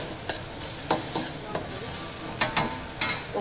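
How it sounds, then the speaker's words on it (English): Korean-style fried rice is stirred in a hot pan, with repeated sharp spatula scrapes and knocks over a continuous sizzle, close and clear. "Give that a nice mix and stir."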